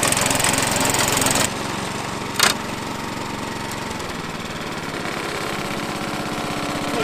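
A lawn mower engine runs steadily and loudly, then drops to a lower, even idle with a brief clatter partway through.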